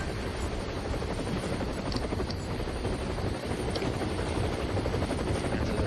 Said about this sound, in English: And there's a helicopter flying by.